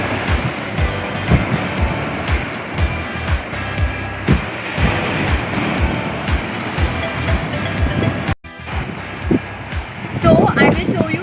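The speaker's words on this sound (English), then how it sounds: "So we are here at Keri Beach." Surf at Keri (Querim) Beach in North Goa rolls in with a steady wash of waves, while wind buffets the microphone and a person talks over it.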